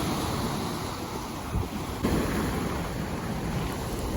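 Black Sea waves rolling and breaking on the shore at Chornomorsk in a steady wash, with gusty wind buffeting the microphone and no one speaking.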